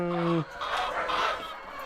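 Backyard chickens pecking at scattered leftover feed give one short tonal cluck at the start, then a fainter, busy murmur of clucking and scratching.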